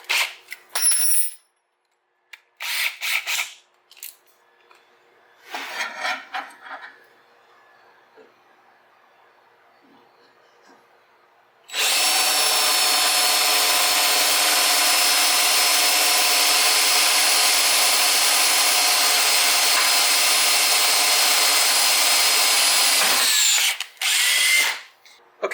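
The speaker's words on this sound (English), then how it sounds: "now we drilled our pilot hole here" A power drill bores a pilot hole in metal for custom shifter and brake pegs on a Honda Shadow motorcycle, a loud steady whine running about twelve seconds after a few short bursts and taps.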